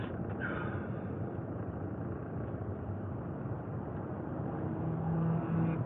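A loud car on the road gives off a steady, full engine roar and road rumble that fills the whole stretch and swells slightly near the end, with no voices.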